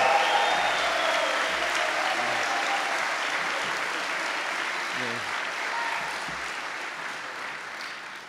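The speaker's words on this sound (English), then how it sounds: "give me a good round of applause again now for the ending of my speech" Audience applause after a chapel talk speech, a sustained wash of clapping from a crowd that slowly fades over several seconds, heard without talk.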